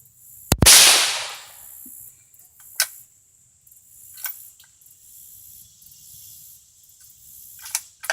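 CZ452 rifle fired at a range: one loud, sharp report close by with a short ringing tail, followed by several much fainter distant cracks from other shooters, quiet between shots.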